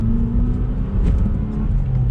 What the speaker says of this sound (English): It's got like a throaty kind of intake-ish noise.